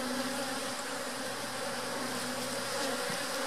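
Honeybees buzz around an opened hive during a hive split as frames are lifted, a dense, steady drone of many wings close by with no talking.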